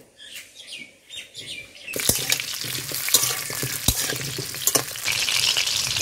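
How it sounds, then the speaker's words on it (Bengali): Cut potatoes frying in hot oil in a kadai for mutton curry, a soft stirring start that bursts into loud, steady sizzling and crackling with sharp pops as they hit the oil. "মাংসের জন্য যে আলুগুলো কেটে রেখেছি সেগুলো এবার ভেজে নেব"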